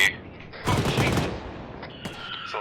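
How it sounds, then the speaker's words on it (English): Automatic weapons fire in the Arma 3 military shooter, with a loud close burst around the middle and sharper distant cracks later, set over a quiet background. "Bravo's getting shot at from the north"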